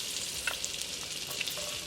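Butter melting with a teaspoon of olive oil in a hot pan on a stovetop burner, giving a steady, faint sizzle and crackle with a few small pops throughout, no talking.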